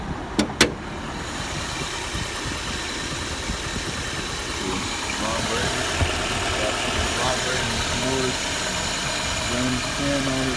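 Nissan Altima 2.5 with 189,000 miles idling with a misfire, a steady mid-pitched engine drone after a couple of sharp clicks at the start, with people talking close by.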